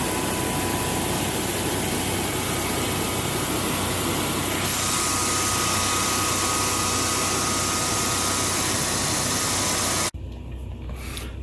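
A Generac standby generator runs steadily outdoors with a loud, continuous engine hum and broadband whir. Near the end the noise cuts abruptly to a quieter, slightly different running tone.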